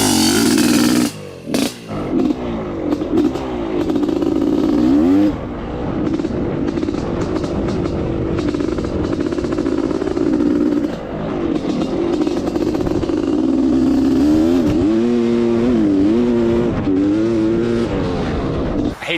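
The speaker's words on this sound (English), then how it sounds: "Now that it's running, we can finally do a hot lap with the CR500" A Honda CR500 two-stroke motorcycle engine revving hard on a hot lap, a loud, close, continuous buzzing roar that rises and falls with throttle changes and gear shifts, with a brief dip early on.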